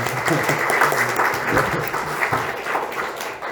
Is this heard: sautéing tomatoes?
no